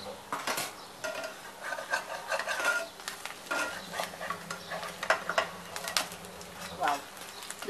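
Surnali sweet dosa cooking on a pan, a soft sizzle with scattered clicks and scrapes of a utensil against the pan, close and fairly quiet throughout with no talking.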